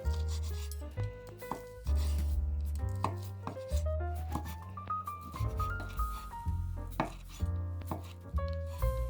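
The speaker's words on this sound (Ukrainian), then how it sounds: "Тим часом дрібно ріжу копчену курятину." Rapid knife strokes finely chopping smoked chicken on a cutting board, a steady run of sharp chopping taps with scraping, close and fairly loud, no talking.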